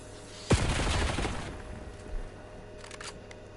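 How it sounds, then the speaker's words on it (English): A hand cannon fires in a Call of Duty Cold War multiplayer match: one sharp, loud shot with a booming tail, then fainter distant shots of gunfire. "Hand cannon going off."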